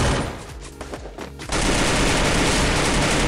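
Rifle fire in the video game Free Fire: a short stutter of shots, then a dense, loud, continuous burst of automatic gunfire filling the rest of the moment.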